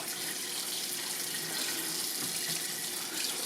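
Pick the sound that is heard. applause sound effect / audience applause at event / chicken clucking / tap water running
tap water running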